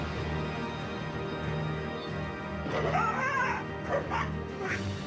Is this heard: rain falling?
no